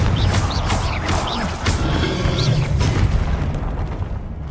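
A Confringo blasting spell explodes in Hogwarts Legacy, a string of loud booming blasts and crashing impacts with short rising magical tones, heard over dense battle noise without speech.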